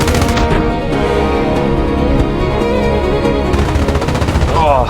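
The .50 caliber machine guns of an F-51 Mustang strafe ground targets in the IL-2 Korea flight game, firing rapid, loud, continuous bursts over steady engine drone.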